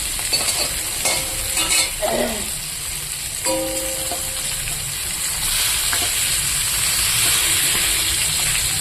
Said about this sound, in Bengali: এবার আমি মাছটা বসিয়ে দিয়েছি ভাজার জন্য